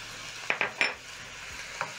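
Spices such as paprika, cayenne and cumin being stirred into tomatoes and onions in a pan for shakshuka, with a few quick close scraping strokes over a faint steady sizzle.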